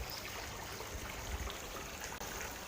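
A pump circulates and cleans the water in a tilapia fish pond, producing a faint, steady trickling flow like a small stream, continuous and even throughout.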